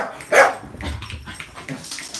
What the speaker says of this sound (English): A wee dog just went by.